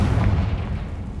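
A Confringo fire curse blasts in Hogwarts Legacy, a short, loud, heavy boom with deep rumbling low end and a dull crackle, filling the whole brief moment without any speech.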